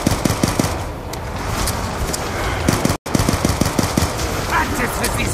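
Rapid automatic gunfire in the Call of Duty Black Ops 2 Origins zombies mode, dense rattling bursts close and loud with a brief break midway.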